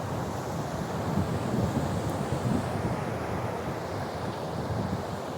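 Continuous roar of ocean surf rolling onto Teknaf sea beach in Bangladesh, with wind buffeting the microphone throughout and no voices.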